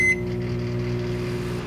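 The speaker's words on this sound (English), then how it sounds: "Microwave." A running microwave oven gives a steady low electrical hum that fills the short stretch, opened by a brief high beep.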